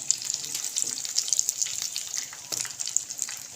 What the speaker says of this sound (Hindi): इनको फ्राई होने में भी ज़्यादा टाइम नहीं लगता।